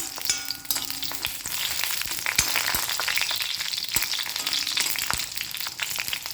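Dried red chillies fry in hot oil, giving a steady close sizzle and crackle with occasional sharp pops and faint scraping, and no voices over it.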